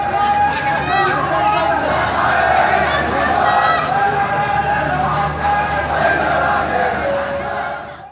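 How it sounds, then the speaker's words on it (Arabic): Soldiers at a protest march chant slogans together, a loud, dense crowd of voices sustained and rhythmic, with shouting and babble throughout. "المشاركون في المسيره من العسكريين رددوا هتافات تندد بالاقصاء والتهميش"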